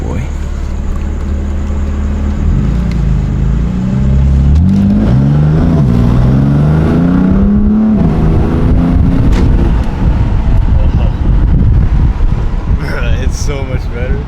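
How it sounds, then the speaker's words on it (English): A BMW F80 M3 fitted with catless downpipes accelerates hard, its exhaust roar climbing in pitch through the gears with turbo noise, loud and close, buffeted by wind noise throughout. "You get way more turbo noise and it sounds aggressive"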